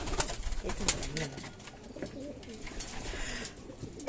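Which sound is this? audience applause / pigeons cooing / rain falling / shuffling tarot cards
pigeons cooing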